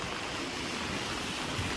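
Steady rushing of river water flowing in an unusually full rural stream in Japan, a continuous close wash of noise with no pauses and no voices.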